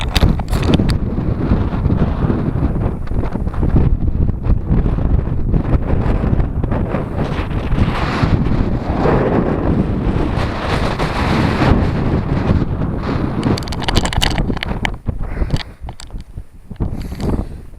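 Strong wind on Dartmoor buffeting the microphone, a continuous loud roaring rumble with gusty surges and crackling bursts, no voice heard.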